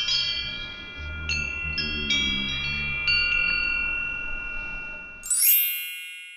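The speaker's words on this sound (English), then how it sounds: "The correct answer is wind chimes." Wind chimes ring out in a series of bright, shimmering metallic tones that overlap and linger, with a soft low rumble underneath, ending in a sharp high chime swell.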